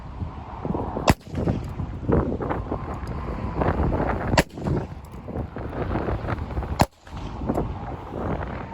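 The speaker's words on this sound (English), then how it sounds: "shoot the ballistic gel" Three sharp, loud shots from a Nagant revolver firing 7.62x38R rounds into ballistic gel outdoors ring out a few seconds apart over gusty wind noise.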